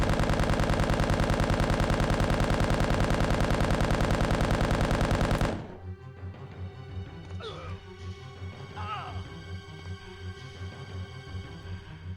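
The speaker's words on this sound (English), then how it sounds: "This machine gun is the strongest weapon in the game, by the way. That's why I'm using it." Rapid, loud machine gun fire in Resident Evil 1.5 rattles continuously for about five seconds, then stops, leaving scattered impacts and game noise behind.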